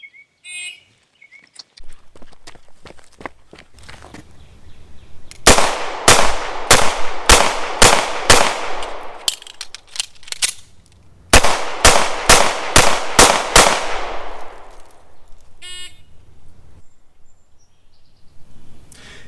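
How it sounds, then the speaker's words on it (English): A Smith & Wesson Model 39 pistol fired on an outdoor range during a law enforcement qualification course: two loud, rapid strings of six sharp shots each, separated by a short pause for a reload. "draw and fire 6 rounds into the target. Then I perform a mandatory reload and fire 6 more rounds into the target"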